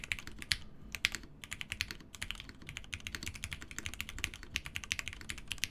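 Steady, brisk typing on a Box75 mechanical keyboard fitted with Hyperglide switches, giving close, crisp clacks in a continuous rhythm with brief pauses and no talk.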